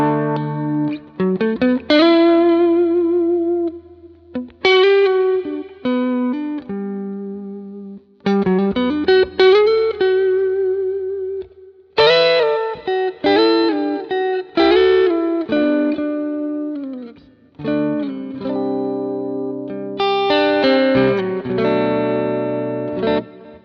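Gritty, overdriven electric guitar chords and riffs through two Matchless amps combined on a Quad Cortex, played in bursts with short pauses, thick and full with a slightly distorted edge.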